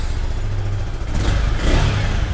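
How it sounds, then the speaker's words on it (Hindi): A 2024 Yamaha R15 V3 motorcycle engine runs close by, rumbling at idle before the throttle is blipped and the revs climb twice in quick, rising surges. "सो पहले करते हैं V3S को स्टार्ट।"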